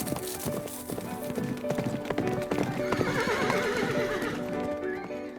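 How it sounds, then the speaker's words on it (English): Horses led around at close range, hooves clip-clopping in a steady irregular patter with repeated neighs and whinnies over a busy, fairly loud background. "Look at the way she's leading these horses around us."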